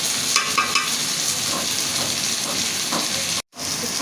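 Taro stolons sizzle and fry steadily in a pan with onion, a dense continuous hiss with scattered stirring clicks, loud and close, briefly cutting out near the end.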